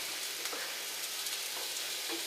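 Mushrooms going into hot oil for a Kerala-style mushroom roast set off a soft, continuous frying hiss, with faint stirring clicks scattered through it.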